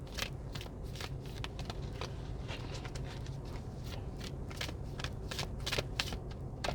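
Tarot cards being shuffled, a steady run of crisp riffling and slapping card sounds, close and continuous, with no talking over it.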